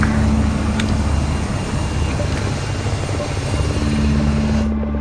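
A military helicopter in a video game spools up for takeoff, its steady rotor and turbine drone loud and continuous throughout, with low harmonic hum and faint radio-style chatter underneath.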